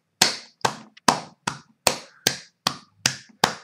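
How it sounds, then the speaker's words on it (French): Hand claps at a church service: nine sharp, separate claps in a slow, even rhythm, each clear and close with silence between them. "Applaudissements, frères et sœurs."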